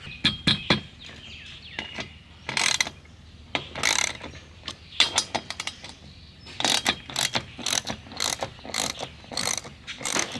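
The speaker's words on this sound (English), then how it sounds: "these two bolts have to come out, and they say remove them evenly" A ratchet wrench clicks in rapid bursts, loosening bolts on the roof rail of a 2023 Toyota 4Runner, with short pauses between the runs of clicking.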